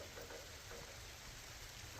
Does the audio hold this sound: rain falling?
yes